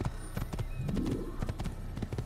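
A horse gallops in the video game Assassin's Creed, with quick, steady hoofbeats clopping close and clear throughout and no talk over them.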